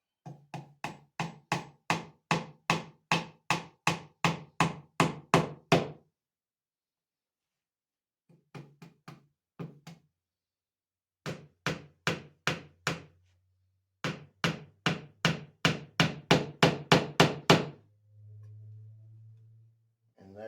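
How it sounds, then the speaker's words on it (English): A hammer gently drives small tacks into wood to fit a sawtooth hanger, striking in quick, even runs of close, crisp knocks, pausing between bursts before resuming, with a few quieter taps in between. "drive your tacks in gently, because they do bend easy"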